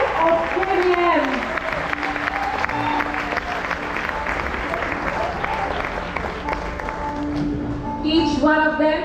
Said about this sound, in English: give a big round of applause for the alumni of KVM